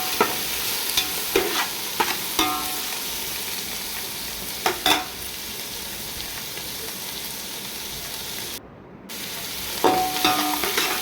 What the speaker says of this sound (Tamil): தக்காளி சேர்த்துட்டு நல்லா வதக்கிக்கலாம்.